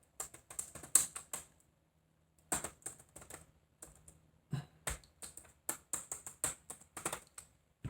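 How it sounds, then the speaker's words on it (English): Computer keyboard keys clacking under fast typing, with close, crisp bursts of rapid taps broken by short pauses, and no voices. "For those listening to the keys clacking."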